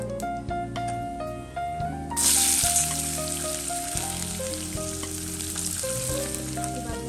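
Green chili and chopped onion fry in a hot pan for a home-cooked dosa, a steady sizzle that swells louder after a couple of seconds and carries on under prominent background music.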